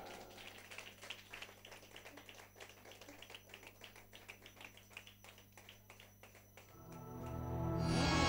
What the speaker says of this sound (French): J'aimerais qu'on accueille aussi avec un tonnerre d'applaudissements Michael Molitor.